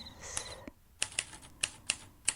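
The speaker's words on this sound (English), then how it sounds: "She starts to type the morning memos, fingers gliding across the keys" A 1950s office typewriter is typed on in a quiet room. About half a dozen crisp, close key strikes land at an uneven pace, with a small clunk of the mechanism early on.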